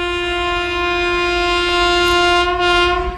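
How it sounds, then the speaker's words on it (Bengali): A train horn sounds loud and steady near Begunkodar railway station, sustained throughout as the train passes at speed, with no talk over it. "ট্রেন এই মুহূর্তে যাচ্ছে"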